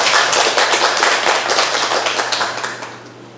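A room full of people applauds at a Buddhist monk's lecture on the Avatamsaka Sutra, a dense burst of clapping that holds steady and then tapers off toward the end.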